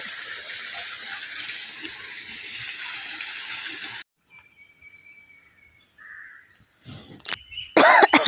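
Spring water from the Nandi Theertham at a temple gushes in a steady loud splash for several seconds, then stops, leaving faint bird calls and scattered handling noises.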